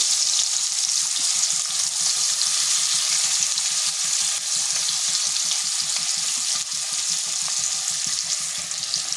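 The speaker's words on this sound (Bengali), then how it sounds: "আর ওই তেলের মধ্যে দিয়ে দিচ্ছি একটা পেঁয়াজকে এভাবে লম্বা লম্বা করে কেটে নিয়েছি।" Long-sliced onion frying in hot oil in a pan, a steady dense sizzle with fine crackling that holds level throughout and has no voices over it.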